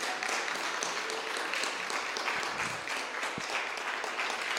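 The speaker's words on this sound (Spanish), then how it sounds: "Alaba al Señor con un fuerte aplauso por su salvación." A standing church congregation applauds in a sustained, dense wash of clapping that carries across the hall at moderate distance, with brief voices mixed in.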